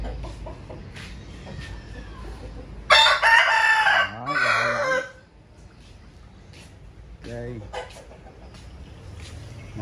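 A rooster crows loudly and close by amid a flock of chickens clucking at a farm in the Mekong Delta region, with further clucks and a fainter crow following and a person speaking in the background.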